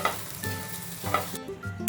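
Onion mixture sizzles gently in a pan while a spatula scrapes and stirs it in a few irregular strokes, with no talking.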